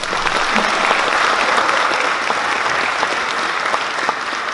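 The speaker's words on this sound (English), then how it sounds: "Yes, that does deserve a round of applause." An audience at a fifth-grade Veterans Day school concert claps loudly and steadily, a dense, even wash of applause throughout.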